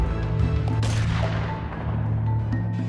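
A sharp gunshot bursts out about a second in, loud and booming, against a dense, dramatic rumbling backdrop that continues around it.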